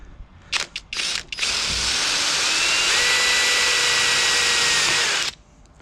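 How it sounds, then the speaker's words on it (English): A power drill bores holes for a solar panel mount on a VW Crafter camper van: a few short stuttering bursts, then one long, loud continuous whine lasting about four seconds before it cuts off. "What I'm going to do is drill the outer ones"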